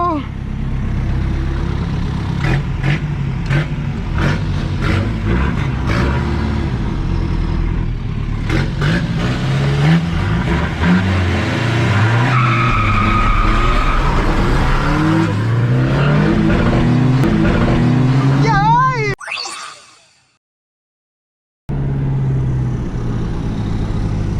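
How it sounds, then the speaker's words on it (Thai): A green car doing a burnout at a street race, its engine revving hard with tires spinning and squealing for a long stretch, loud and close, with voices talking over it before a sudden cut to silence. "เฮ้ยแล้วมึงจะเบิร์นรถทำไมวะ"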